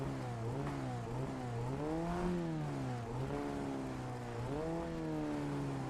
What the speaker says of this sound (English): Do sound great, these cars.